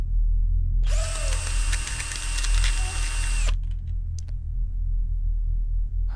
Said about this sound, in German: Hat er ihn in die Hand gebohrt oder was hat er gemacht